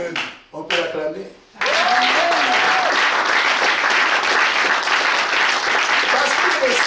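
A church congregation bursts into loud, sustained applause and cheering after a few seconds of a preacher's amplified voice, the clapping steady and dense to the end.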